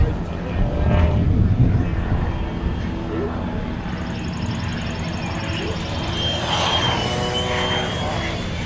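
A Freewing F/A-18C Hornet Blue Angels 90mm EDF RC jet makes a low pass, its ducted-fan whine rising and sweeping past under steady wind noise, while people talk nearby.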